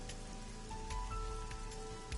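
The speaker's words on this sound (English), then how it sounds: "Alright, rain is awful, huh?" Steady rain falls in a scene from the video game AI: The Somnium Files, a dense continuous patter with soft drips and a faint tonal game hum underneath, no voices.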